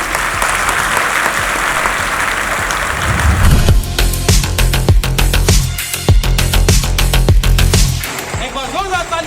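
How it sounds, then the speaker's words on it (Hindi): Applause from an audience welcoming a university vice-chancellor, a dense, steady burst of clapping that swells partway through and then fades as a voice begins speaking near the end. "एक बार जोरदार तालियों के साथ भव्य स्वागत होनी चाहिए हमारे वीसी साहब के लिए"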